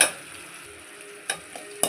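Onions sizzle steadily in hot oil in a pan while being sautéed for a tomato onion chutney, with a few sharp scrapes of a stirring spoon near the end.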